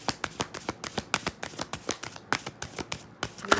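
Tarot cards shuffled by hand in quick repeated riffles and slaps, a steady run of crisp papery bursts close up with no talking.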